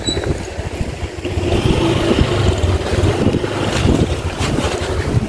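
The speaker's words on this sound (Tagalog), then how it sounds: "Oh, sarap ng hangin talaga guys dito. Mahangin ngayon." Strong wind blows steadily outside a house's front yard, a loud, continuous roar with gusty low rumble from wind buffeting the microphone, and no talk.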